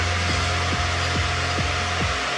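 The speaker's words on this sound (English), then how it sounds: "I've hit them with the air gun, the heat gun, to dry them off." A heat gun blows hot air to dry freshly polished, clear-coated headlights on a modified Ford Transit Connect Mk1 camper van, giving a loud, steady whooshing hum with a faint regular pulsing throughout.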